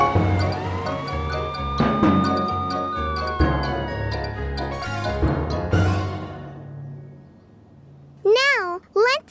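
Cartoon police car siren from a children's animated series, wailing in a few quick rising-and-falling sweeps near the end after a stretch of music and sound effects.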